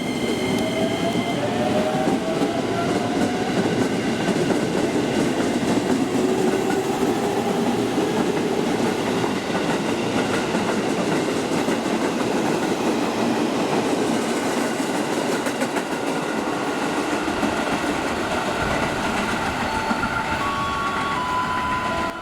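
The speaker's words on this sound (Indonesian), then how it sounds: "hati-hati di jalur 1 kereta api melintas langsung" A long train runs straight through a railway station on track 1 without stopping, a loud continuous roar of wheels on rails with clattering and faint high squeals held steady throughout.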